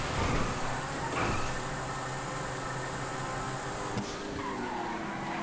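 A Zentorno supercar in the FiveM racing game drives at high revs with steady engine drone, a tire skid and squeal cutting in near the start and again toward the end, loud and continuous.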